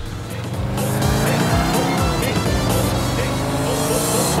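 In GTA 4, a car engine roars steadily up close while tyres squeal and skid repeatedly through turns, loud and continuous with no voices.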